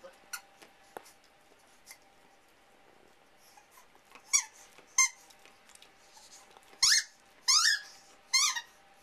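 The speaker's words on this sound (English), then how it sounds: "You get to sleep with a squeaky toy." A dog squeezes a squeaky toy indoors, giving a few sharp, high squeaks in quick pairs, faint at first and then louder and clearer toward the end.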